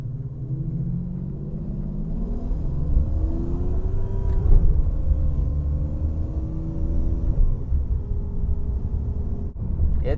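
A Ferrari 575M Maranello with an automatic-mode transmission drones along steadily from inside the cabin, its engine pitch climbing and dropping as it shifts through gears several times.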